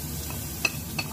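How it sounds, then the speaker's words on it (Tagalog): Garlic, onion, ginger and chili being sautéed in rendered pork fat in a pan, giving a low steady sizzle with a couple of brief stirring scrapes. "Igisa din natin sa tabi ang bawang, sibuyas, luya, at saka"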